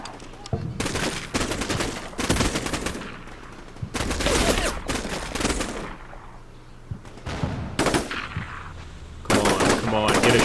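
Gunfire in the Combat Mission: Black Sea war game: repeated bursts of automatic fire and sharp shots in separate clusters, loud and close, with rumbling gaps between volleys and some voices underneath.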